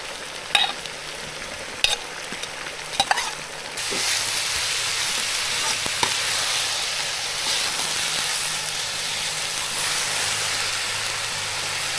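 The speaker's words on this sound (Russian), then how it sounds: "мясо запечаталось, бросаю лук" Meat that has been seared sits in a pot with quiet sizzling and a few sharp clinks. Then onion goes in and the frying swells into a louder, dense, steady hiss.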